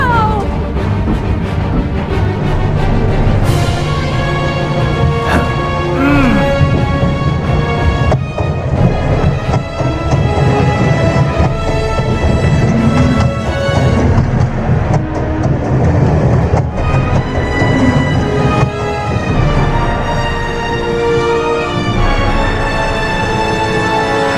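A train runs in The Raven Remastered, a loud, continuous rumble and clatter of rolling wagons with rhythmic clacks and metallic squeals layered over game music.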